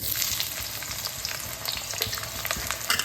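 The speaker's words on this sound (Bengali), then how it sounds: "এই পেঁয়াজটা তেলের মধ্যে দিয়ে দিচ্ছি" Chopped onion frying in hot oil, a dense continuous hiss and crackle with occasional spatter pops, close and steady for a few seconds with no voices.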